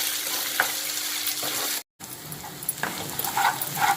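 Masala mixture fries in oil for a meal maker curry served with vegetable biryani. It sizzles steadily and close by, with stirring scrapes and a brief cut to silence partway through.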